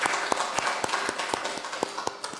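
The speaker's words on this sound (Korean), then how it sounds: "여러모로 섬기는 모든 분들께 우리 박수 한번 하십시다" A church congregation at a Sunday service gives a round of applause, heard as faint, evenly spaced sharp claps that stand out from a soft, hissing background of the sanctuary.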